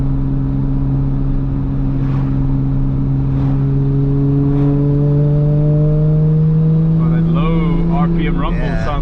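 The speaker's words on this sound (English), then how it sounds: "RPM rumble sounds good." A rebuilt Toyota Supra GT300 race car on the move, a loud steady low engine rumble rising slowly in pitch, heard from the cabin, with people talking over it near the end.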